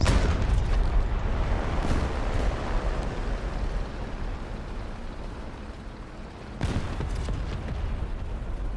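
Tank cannon fire in the War Thunder video game, heard as a dull, continuous rumbling wash with a sharp, loud cannon blast near the end.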